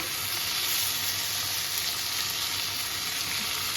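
Lote (Bombay duck) fish rubbed with turmeric and salt frying in a pan over lowered gas, a loud, even, continuous close sizzle with no voices.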